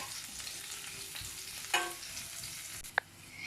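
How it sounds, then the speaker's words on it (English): Chopped onion sautéing in a pan for spaghetti noodles: a quiet, steady sizzle broken by a couple of sharp clinks of a utensil against the pan. "So now let's add some chopped onion. And again we will saute it."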